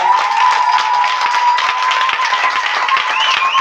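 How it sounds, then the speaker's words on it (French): Church congregation clapping and cheering loudly and continuously, a thick wash of hand claps with a sustained high vocal tone riding over it and brief whoops near the end. "Donnez les vraies acclamations à l'église"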